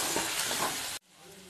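Onion, garlic, ginger, tomato and turmeric sautéing in a pan with a dense, loud sizzle that cuts off abruptly about a second in, leaving a faint quiet tail.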